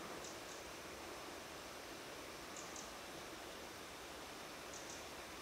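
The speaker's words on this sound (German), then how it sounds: "Wo sich das Wasser drunter schlängelt." Water of a small stream flowing beneath a little bridge in the countryside near Rüdnitz and the Biesenthal Basin, a steady soft rushing murmur throughout with no talk.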